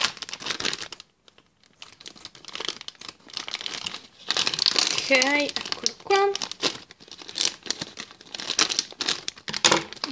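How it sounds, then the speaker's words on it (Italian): Scissors cut open a crinkly plastic blind bag from a collectible toy swap, a run of close crumpling and snipping sounds mixed with rustling, with a brief spoken remark in Italian partway through. "Vediamo, qui c'è il tag, però lo voglio aprire con le forbici."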